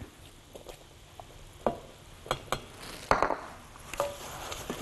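A spoon stirs flour into two spoonfuls of ghee in a pan, giving soft scraping and faint sizzling with a few sharp clinks against the metal, fairly quiet and with no talking.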